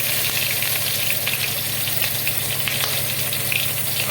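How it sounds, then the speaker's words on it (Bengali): Onions sizzle steadily in a hot pan as they brown before ginger paste goes in, a dense close frying hiss that stays even throughout, with no voices. "এখন তারই প্রস্তুতি চলছে, লাল লাল করে পেঁয়াজ ভাজার।"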